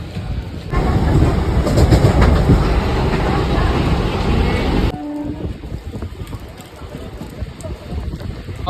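Train running on rails, loud rumbling rolling noise for about five seconds that drops away to quieter background, with possible voices mixed in.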